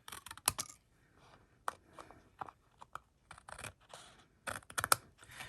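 Scissors snipping through paper scraps up close, a series of quick sharp crisp cuts in irregular bursts with light paper rustle between them, no voices.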